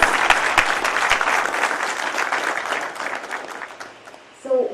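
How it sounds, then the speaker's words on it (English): Applause from an audience for graduating students at an IBDP graduation ceremony, many hands clapping steadily before fading out, followed by a brief voice at the end. "can we have a big round of applause for our dear students?"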